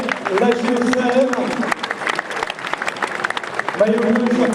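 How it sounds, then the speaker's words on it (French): An audience at a youth cadet football tournament in Rezé applauds a team, a dense wash of clapping with an announcer's voice heard at the start and end. "je vous demande d'applaudir la géosphère"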